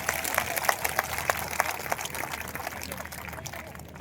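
An audience at a gathering in Bhilwara applauds in a dense, continuous wash of claps with a few sharper individual claps standing out, holding steady and fading slightly toward the end.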